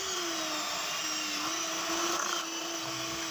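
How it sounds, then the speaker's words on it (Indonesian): Electric hand mixer whirring steadily through doughnut dough with margarine and a pinch of salt, a continuous high motor whine with a slight pitch dip midway, close and alone with no talk. "Lanjut kita akan mixer adonan"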